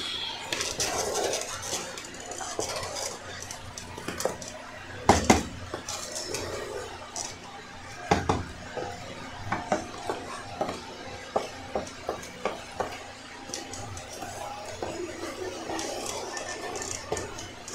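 A utensil stirs crayfish stew in a pot, producing repeated metallic scrapes and clinks against the pot's sides in an irregular rhythm over a faint background.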